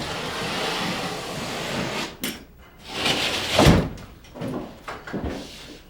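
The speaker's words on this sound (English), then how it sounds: "I just hang the whole panel and then cut along the outside stud with my utility knife." A utility knife scores and cuts along the outside stud of a hung drywall panel, with scraping strokes and a couple of sharp snaps, loud and close in a quiet room.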